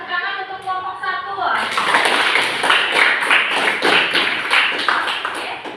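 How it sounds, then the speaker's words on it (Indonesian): Students in a classroom clap for the first group after its presentation; a voice speaks briefly, then dense, rhythmic clapping from a small nearby crowd fills the rest. "Kasih tepuk tangan untuk kelompok 1"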